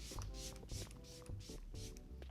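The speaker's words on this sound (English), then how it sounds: "I'm actually going to spray my face with a little bit of setting spray" Several quick bursts of LYS Beauty setting spray misted onto a face, hissing close to the mic in a steady rhythm of short sprays with brief pauses between them.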